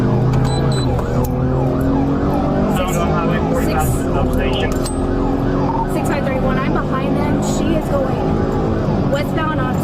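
A police car siren wails continuously during a chase as the vehicle runs with lights on against traffic on a highway, loud and close, with voices and road noise mixed in throughout.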